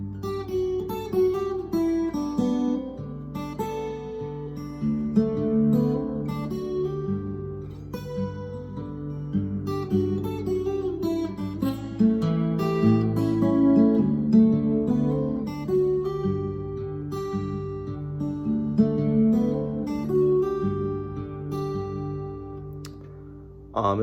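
Solo slack key guitar plays the tune Kealoha and closes on a vamp, with steady fingerpicked melody and bass notes ringing clearly and alone for about twenty seconds.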